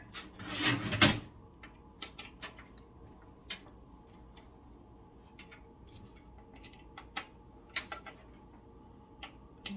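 A small red screwdriver tightens a screw on a PC motherboard during a computer build. Faint, scattered metallic ticks and light scrapes come up close in a quiet room, with a short rubbing burst at the start.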